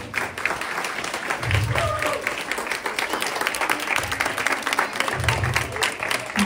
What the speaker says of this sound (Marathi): पुन्हा एकदा 30 सेकंदाच्या टाळ्या होऊन जाऊ देत